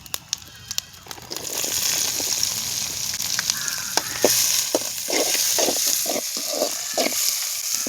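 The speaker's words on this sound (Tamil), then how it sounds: "இப்போ பார்த்தீங்கன்னா நறுக்குன வெங்காயத்தை சேர்க்குறோம்." Chopped onions hitting hot oil with vadagam, sizzling and frying steadily at close range, with a few sharp crackles and pops scattered through the clip.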